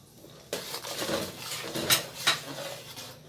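A spoon stirs coriander powder and whole cumin in a cooking pot of matar pulao, with clattering metal scrapes and two sharper clinks against the rim, close and alone.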